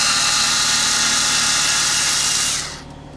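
A power driver whirs steadily and loudly as it spins T25 screws out of a Weber / Edelbrock 500 four-barrel carburettor, then winds down and stops near the end.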